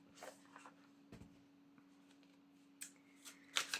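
A tarot card deck is shuffled in quiet, crisp bursts of riffling and sliding, several short flurries close to the ear against a faint steady hum, no talk.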